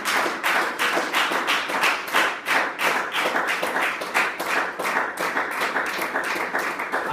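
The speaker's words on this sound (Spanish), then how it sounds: "Yo creo que se merece un aplauso en esta noche." A church congregation applauds during an evening sermon, dense rhythmic clapping from many hands filling the room steadily and loudly, with no talk over it.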